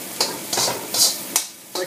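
Pork and garlic stir-frying in a pan for fried rice, heard as short bursts of bright sizzling hiss that rise and fall every half second or so as the food is tossed.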